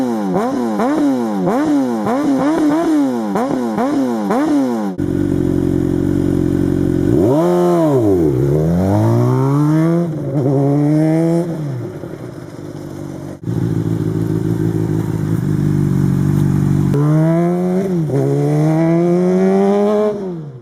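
A 600cc supersport motorcycle engine revs hard and loud, climbing and falling in repeated sharp blips, then sweeping up through long swooping rises after settling to a steady idle, close and alone with no talk.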